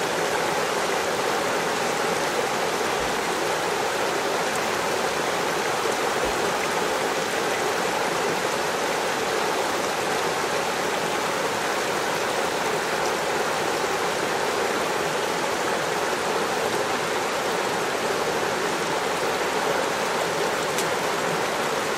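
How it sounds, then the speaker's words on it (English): A flowing stream rushes steadily and evenly for the whole stretch, a dense close wash of water with no breaks and no voices. "the flowing stream is always leaving new arrangements of leaves, sticks, and other things"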